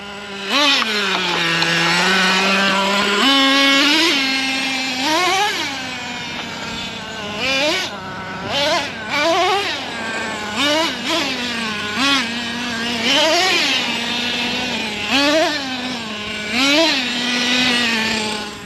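A Traxxas T-Maxx nitro RC monster truck engine buzzes loud and close with a high, whiny two-stroke tone, repeatedly blipping up and dropping back to idle in short rising revs throughout.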